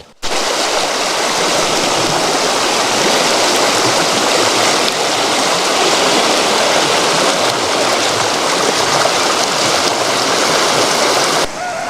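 The Sisamara river rushes past with a strong current, a loud, unbroken roar of flowing water heard close up with no voices.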